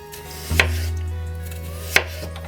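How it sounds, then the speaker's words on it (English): Potatoes for dauphinoise are sliced thinly by knife on a board, two distinct sharp cuts about a second and a half apart over a quiet kitchen hum. "slice them thinly and then arrange them in a baking dish"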